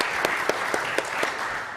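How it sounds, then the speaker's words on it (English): Brief, fast round of applause from a conference audience at a phosphorus recovery panel, steady clapping with a few sharper claps standing out, moderately loud in a hall. "So if we can give him a really fast round of applause"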